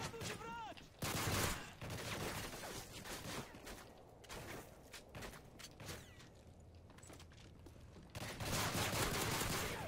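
Gunfire in Modern Warfare 3 survival comes in rapid bursts of automatic shots, sharp and fairly close, with quieter pauses between volleys and no talk over them.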